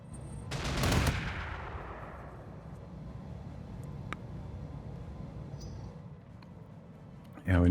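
Weapons fire in the mech combat game BattleTech RogueTech: a loud burst of gunfire near the start decays into a low rumbling tail, with a few faint impacts and a sharp blast at the very end.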